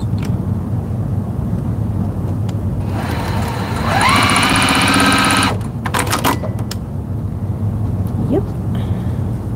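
A home sewing machine stitches in a steady, fast buzzing run of a second or so mid-clip, set against constant background noise with brief clicks around it.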